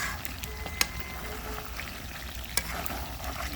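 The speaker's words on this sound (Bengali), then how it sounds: "এই তো দেখুন গোস্তটা একবারে কষাইতে কষাইতে সব শুকনা মরিচগুলো একদম গলে গেছে" Duck meat frying with dried chillies in oil on a rural clay stove, a steady soft sizzle with a couple of sharp stirring clicks, quiet and close, no talk.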